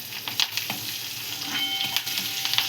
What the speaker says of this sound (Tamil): கொஞ்சோண்டு பெருங்காயம், கடுகு பொரியட்டும்